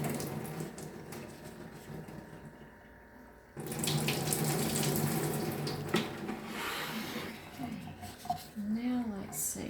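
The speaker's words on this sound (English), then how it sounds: "Okay, so I'm going to water it really thoroughly." Water pours steadily from a tap to soak a potted miniature phalaenopsis orchid growing in bark, a continuous splashing flow that grows louder partway through, with faint voices underneath.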